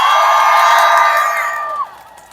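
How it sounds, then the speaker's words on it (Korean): A large protest crowd at a nighttime candlelight rally outside the National Assembly cheers loudly in a dense, sustained roar of voices that fades toward the end. "우리 10대들 위해서 격려 박수 부탁합니다."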